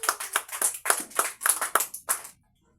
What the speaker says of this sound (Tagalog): Pumalakpak nga yung maniniwala.